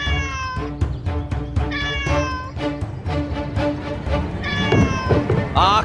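A black cat meows repeatedly and loudly close by, its drawn-out cries rising and falling over a busy background with people talking.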